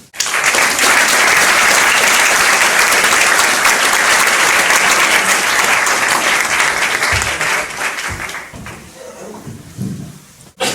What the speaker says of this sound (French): Et je vous invite à l'accueillir avec moi et à l'applaudir ce soir.